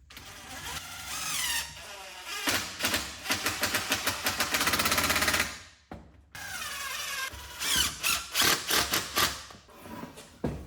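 A drill drives a 2.5 inch pocket screw into wood while building a nightstand, giving loud whirring bursts that repeatedly rise and stop, with a short pause midway before more stuttering pulses.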